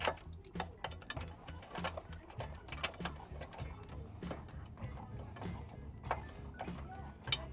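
Socket ratchet tightening a bolt: a steady run of quick, close clicking and ratcheting mechanical ticks, fairly faint, with no voices.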